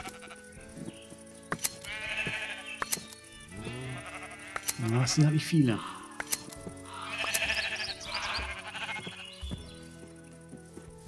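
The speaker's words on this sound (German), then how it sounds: "Da draußen sind ja noch ein paar Schafe." Sheep bleating in the video game Minecraft: several wavering bleats repeat at moderate distance, mixed with game sound effects, while someone talks in German over them.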